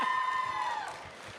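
A short burst of crowd applause and cheering at Black Tech Fest, with a high whoop or whistle over the clapping, fading slightly toward the end.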